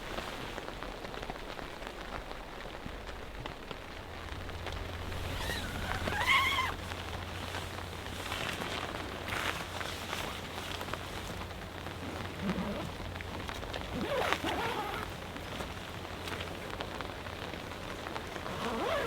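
Steady heavy rain drums on a North Face StormBreak 2 tent, a continuous dense patter with a few louder gusts and bursts of drops, no voices.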